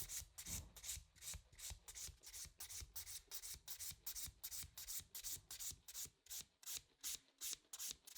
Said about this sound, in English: My fifth step in filing is to turn the nail around from the client's angle and bevel down towards the tip.